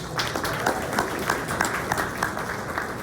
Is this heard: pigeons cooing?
no